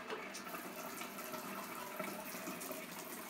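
Water drains from a home expansion tank through a hose, making a steady rushing, splashing flow that stays even and continuous at close range with no talk.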